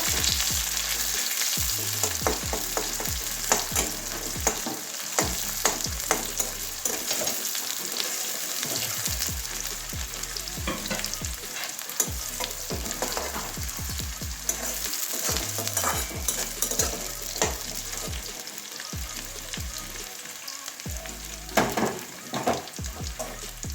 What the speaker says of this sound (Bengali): এবারে পেঁয়াজটা ভালো করে ভেজে নেব